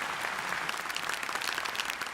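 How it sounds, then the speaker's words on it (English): A round of applause from a group, dense steady clapping filling the whole moment at moderate loudness, with no voices on top. "A round of applause."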